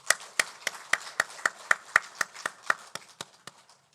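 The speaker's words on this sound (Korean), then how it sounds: "중고등부 교사들 다시 한번 우리 격려의 박수 하십시오." A church congregation at a Sunday worship service applauds its middle and high school teachers: a steady run of about fifteen sharp, evenly spaced claps that sound close and fairly distinct, then fade toward the end.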